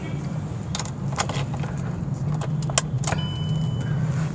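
A key jingles and clicks into the ignition of a 2021 Volkswagen Vento 1.0 TSI petrol car, with a few short, close metallic taps and rattles over a low steady cabin hum.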